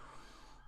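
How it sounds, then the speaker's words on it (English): Emergency vehicle siren outdoors in London, heard faint and distant as a steady wail under a quiet room. "apologies for the siren, living in London, it's really loud."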